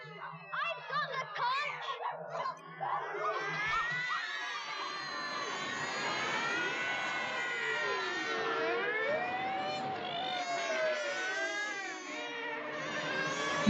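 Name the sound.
kids imitating siren noises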